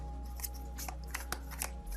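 Tarot cards are shuffled close by in quick, papery riffles and slides, several brief bursts over a quiet background.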